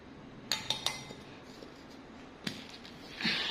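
A spoon clinking against a bowl while baking powder is mixed into brownie batter ingredients: a few sharp clinks early on, then a single knock and a soft scrape near the end.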